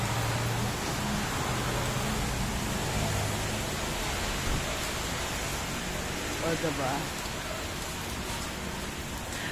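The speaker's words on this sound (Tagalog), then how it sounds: "Magpapatila lang ako ng ulan." Heavy rain pours in a steady, dense hiss that fills the whole scene, loud and close without letup, with a voice speaking briefly beneath the downpour.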